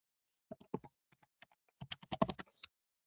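Card number being entered on a computer keyboard: a couple of short bursts of light, near key clicks with pauses between, then a denser run of taps before it stops.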